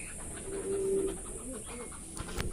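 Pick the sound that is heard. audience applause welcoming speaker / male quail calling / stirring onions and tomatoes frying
male quail calling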